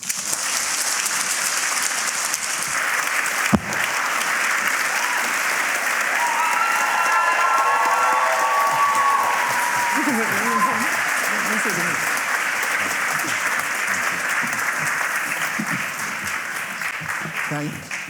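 An audience in a debating chamber applauds arriving guests, a loud, sustained wash of clapping lasting the whole stretch, with a few voices and cheers rising briefly in the middle.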